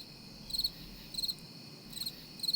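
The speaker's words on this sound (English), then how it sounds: "I seem to share the same sense of humour as crickets. They're loving it." Crickets chirping outdoors near a stadium in Valencia, quiet distant pulses of rapid trills recurring about every two-thirds of a second against a soft hum.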